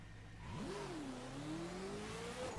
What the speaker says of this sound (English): Engine sounds the same, but we're quite a bit faster now.